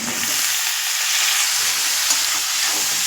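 Chopped onion, eggplant and bottle gourd fry in a pan with a constant close hiss and sizzle, even and unbroken, with a faint stir of movement.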